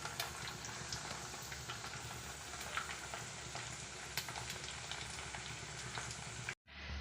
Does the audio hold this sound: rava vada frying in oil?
yes